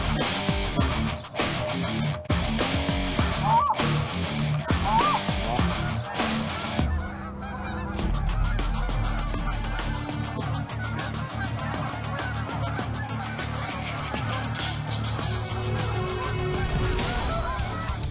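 An Adrenaline short reed goose call is blown in a long, loud run of honks and clucks that imitate geese, with rapid rhythmic notes and no talking.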